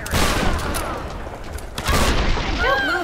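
Gunfire in Tomb Raider, loud rapid bursts of shots and booming impacts in a dense, continuous barrage, with a second burst after a short lull and speech mixed underneath.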